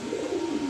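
A single short, soft coo comes from a nine-year-old male pigeon, alone and close by.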